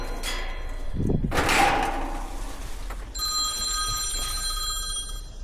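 A telephone bell starts ringing partway through, a steady, bright metallic trill that continues to the end after a few bumps and handling noises at the start.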